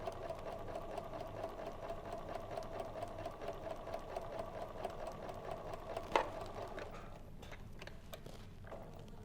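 A sewing machine stitches a quarter-inch seam in a steady, rapid whirring run for about six seconds, then stops with a sharp click, leaving only faint handling sounds and quiet background.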